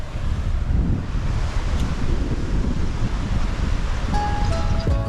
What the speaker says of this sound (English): Here's the beach. It's beautiful.